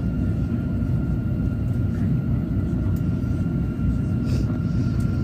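An airliner at Canberra Airport being pushed back by a tug before taxiing, heard from inside the cabin as a steady low engine rumble and hum with faint background sounds.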